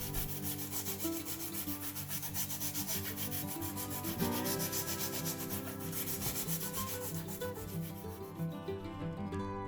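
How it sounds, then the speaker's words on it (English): Steady rubbing of sandpaper on cured Mohawk epoxy putty, a continuous scratchy sound that keeps going at an even level beneath prominent background music. "Now that we've sanded and shaped everything"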